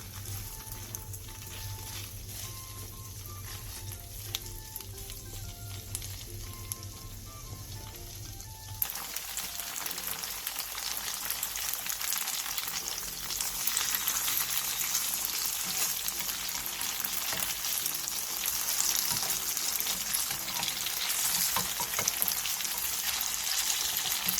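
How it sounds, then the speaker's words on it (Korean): Tofu pan-frying over medium heat in a preheated pan, a soft background hum at first, then a loud, steady crackling sizzle that swells and continues without talk for over fifteen seconds. "예열된 팬에 두부를 올려 중불에서 앞뒤로 노릇노릇하게 구워주세요"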